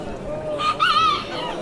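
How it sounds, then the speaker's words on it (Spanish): A rooster at a poultry expo in Houston, Texas crows once, loud and near, a short bright rising call over a busy background murmur. "Qué bonito está también ese gallito."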